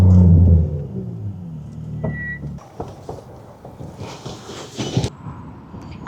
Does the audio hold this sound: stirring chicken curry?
no